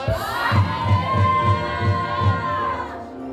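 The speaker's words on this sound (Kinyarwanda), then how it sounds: "amashyi menshi cyane" A church congregation applauds and cheers, a loud, sustained mass of voices over a steady rhythmic pulse of clapping.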